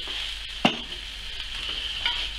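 A utensil scrapes the bottom of a pan where port has just been added to caramelized partridge juices, with one sharp scrape-clatter and a steady sizzle and hiss running throughout.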